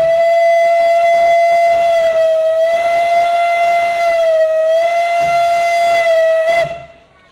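A historic steam locomotive lets out one long, loud, sustained whistle blast with a rich steady harmonic tone, holding for about six seconds before cutting off abruptly.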